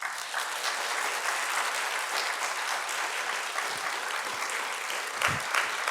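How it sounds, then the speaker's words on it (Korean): An audience at a church lecture applauds to welcome a speaker on a mission math program, a steady wash of clapping from many people with no talk over it. "나오시면 박수로 환영해 주시면 감사하겠습니다."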